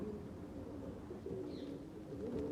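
Red Cheena pigeons kept as a hobby flock give soft, low cooing that is quiet and continuous, with no talking.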